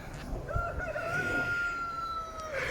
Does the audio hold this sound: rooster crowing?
yes